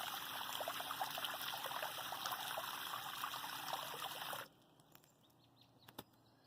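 Water poured into a planting hole dug for an avocado tree, a steady splashing rush that stops abruptly partway through, leaving quiet with a few faint drips and knocks.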